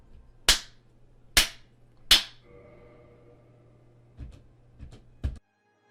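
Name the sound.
hand clapping used to trigger a game's back button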